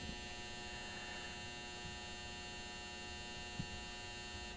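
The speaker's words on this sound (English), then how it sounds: "that's the washer, dryer, whatever" A washer dryer running indoors gives a steady, unchanging electrical hum with faint mechanical drone underneath, constant and fairly quiet throughout with no talking.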